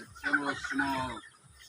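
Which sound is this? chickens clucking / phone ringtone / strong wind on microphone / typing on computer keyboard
chickens clucking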